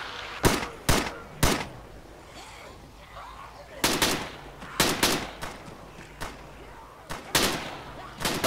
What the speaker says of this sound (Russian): Звуки выстрелов.